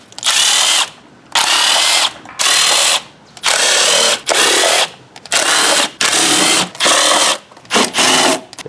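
Power tool spinning out the valve cover bolts on a Ford Focus during a timing belt job, with about ten short, loud bursts of whirring drill-like noise separated by brief pauses, close up and with no talking.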